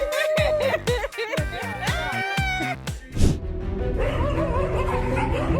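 Dogs bark and yip in rapid, excited bursts at close range, with whining mixed in.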